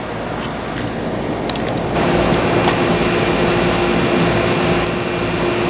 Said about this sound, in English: Please ignore the sound of the air conditioner running behind us